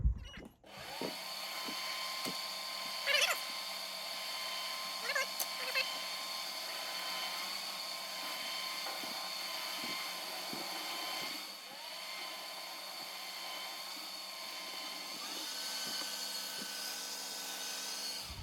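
A metal lathe (PM 1228VF-LB) turns down a steel part with a steady motor whine and light cutting hiss, broken by short clicks and a few brief drops in pitch.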